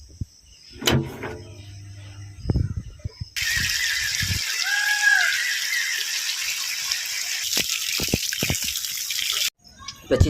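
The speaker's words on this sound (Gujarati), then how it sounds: "ઠંડા પાણીથી નાહી લીધું" Cold water pours and splashes steadily during a morning bath after a workout, a broad continuous gush lasting several seconds and bracketed by scattered knocks and handling noises.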